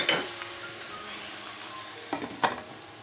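A coriander mixture fries in a pot over low heat with a soft, steady sizzle, while a few sharp clanks of the pot being tossed and handled stand out.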